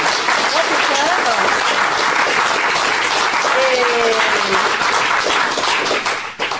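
Loud, sustained audience applause fills a theatre hall for the author of an adult theatre-class play at an arts school in Moûtiers, Savoie, with dense clapping throughout and voices faintly mixed in before it thins at the end.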